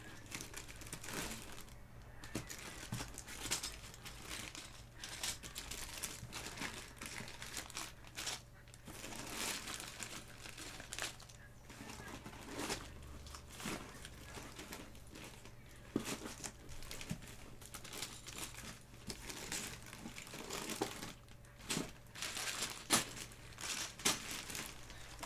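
A hand digs through a crinkly plastic grab bag of keyboard keycaps, with continuous crumpling and rustling, small clicks of keycaps shifting against each other, close and fairly quiet throughout.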